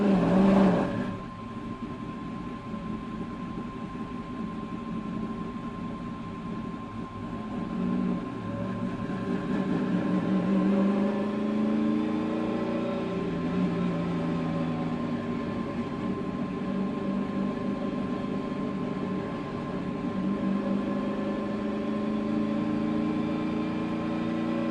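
A NASCAR Xfinity race car's engine fires up in the cockpit onboard, settling into a loud, steady drone with rising and falling tones over a constant high whine, with no talk over it.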